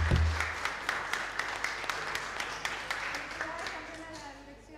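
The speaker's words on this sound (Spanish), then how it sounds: "un aplauso para ustedes" Scattered audience applause at a health centre handover of mobility aids to local residents in Castro, with distinct individual claps over a room murmur, fading gradually.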